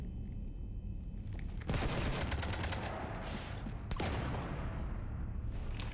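A ship is being shot up in Mass Effect 3, and sustained rapid gunfire hammers it. It starts abruptly and keeps up as a dense, loud barrage with a second surge partway through.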